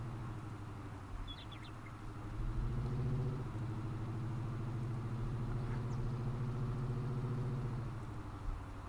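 A pickup truck engine in Farming Simulator 19 runs steadily with a low, even hum that swells slightly and holds, alone without talk.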